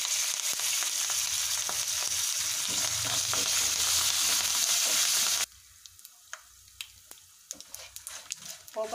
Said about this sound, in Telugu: ఎన్ని ఫ్రై అయిన తర్వాత కరివేపాకు వేసుకొని ఫ్రై చేసుకోవాలి.